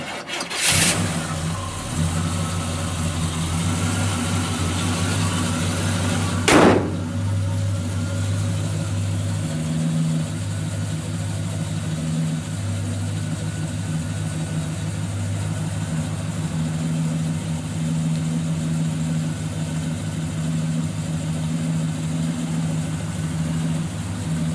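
A 1966 Chevrolet Impala SS 396 with factory exhaust manifolds and 2.5-inch dual Flowmaster mufflers cranks and fires up, blips once, then settles into a steady, deep, loping idle that runs on for about twenty seconds.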